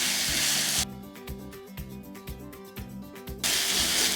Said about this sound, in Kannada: ಇದಾದಮೇಲೆ ಅದಕ್ಕೆ ಈ ಚಟ್ನಿ ಮಾಡಿದ್ದೀನಲ್ಲ ಅದನ್ನು ಹಾಕ್ಕೊಂಡು ಹುರ್ಕೋತೀನಿ